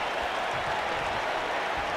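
Steady roar of an arena crowd cheering in a WWE 2K wrestling video game, a continuous broad wash of applause and crowd noise with no talk over it.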